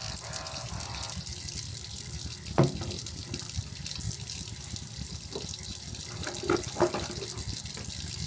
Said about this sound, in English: let me rinse my mouth